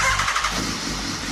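Engine of the world's most powerful road-legal motorcycle, a fitted street bike, roaring at a steady high pitch with a dense, rasping rush, fairly close and unbroken for the brief moment.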